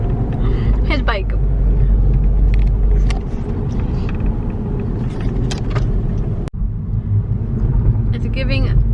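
Steady low engine and road rumble inside a small Honda Civic while driving, continuous and close, with a few brief rattles and clicks and a sharp knock near the end; voices faintly present.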